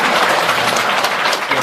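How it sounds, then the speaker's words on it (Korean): Audience at a Buddhist temple service clapping together in a brief, dense burst of applause, close and loud, with no talk over it. "박수 한번 쳐야 돼."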